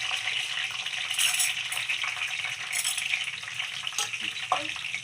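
Chana dal frying in hot oil for pulihara, a steady close sizzle with intermittent stirring scrapes and light clinks from the pan.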